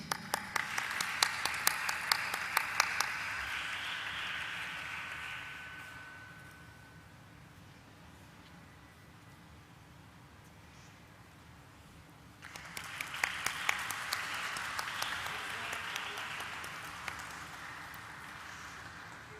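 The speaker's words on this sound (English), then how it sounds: "Please let's give a warm applause to Mrs. Joyita Sen, Director, Senco Gold Lim" Audience applause at a corporate stock listing ceremony rises in a dense burst of clapping, fades to a quiet lull of room noise, then swells again into a second round of sustained clapping.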